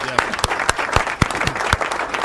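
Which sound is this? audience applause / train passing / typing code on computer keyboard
audience applause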